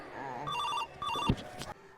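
An electronic phone ringtone sounds in two short warbling bursts, fairly close, with a thump and brief rustling between and after the rings.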